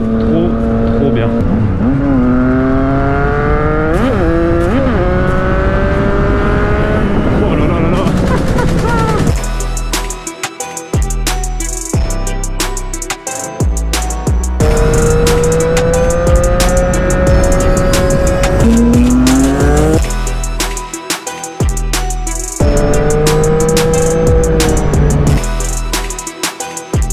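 A Yamaha MT-09 SP motorcycle being ridden, its engine revving up and down in rising and falling sweeps with sharp gear-change and throttle-blip breaks, loud and close throughout.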